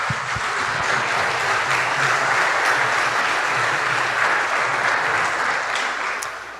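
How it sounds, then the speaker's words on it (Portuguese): A church congregation applauds during a service, a dense, steady wash of many hands clapping at close range that holds level for several seconds before easing off at the end. "Você pode dar uma salva de palmas para Jesus?"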